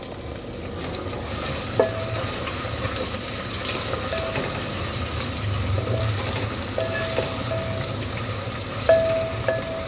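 Onions frying over high heat with garlic and ginger added, cooking for turnip sabzi: a steady hiss of sizzling oil with occasional stirring clinks of a utensil against the pan.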